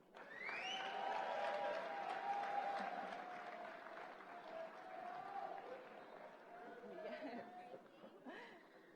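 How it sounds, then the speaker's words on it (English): Applause for Charles Bourne at a BLP annual conference awards ceremony, a crowd clapping beneath a loud announcer's voice and lively chatter, the clapping steady and somewhat distant throughout. "join us as we applaud Comrade Charles Bourne"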